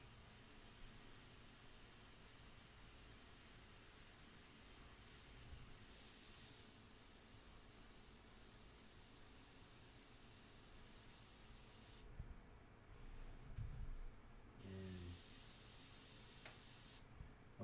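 An airbrush sprays paint onto a portrait, giving a continuous, even hiss of air and paint close by, broken by a couple of short pauses and faint clicks of the trigger toward the end.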